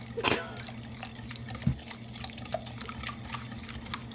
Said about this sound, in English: let's just stir it together, okay? Let's just mix it up real well